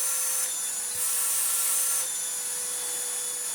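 A Miele C2 24v Powerline cordless vacuum cleaner runs with a clogging airflow, giving a steady motor whine and a hissing rush that swells and dips as suction strains, with no voices.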